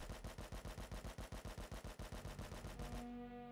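A new AK rifle firing full-auto in the game Rust, a loud, rapid, evenly spaced burst of about twenty shots, then a ringing tail as the fire stops.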